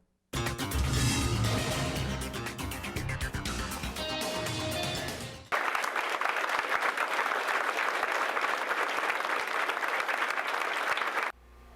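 Congregation applauding during a Sunday Eucharist at the cathedral in Guatemala. Music plays loudly at first, then gives way to a sustained, dense burst of clapping that cuts off abruptly.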